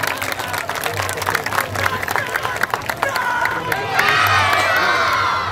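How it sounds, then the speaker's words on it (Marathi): Loud crowd applause mixed with cheering and shrill whoops at an outdoor Bhim Jayanti celebration in Worli, Mumbai, clapping dense early on, with rising shouts and whistles swelling toward the end. "या सगळ्यांसाठी जोरदार टाळ्या होऊन जाऊ द्या."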